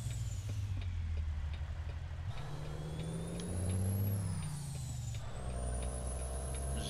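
Truck engine in American Truck Simulator idling and revving at low pitch with gear shifts, with hissing air brake releases and a faint repeating beep over the steady drone, no voices.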